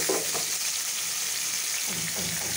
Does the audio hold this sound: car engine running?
no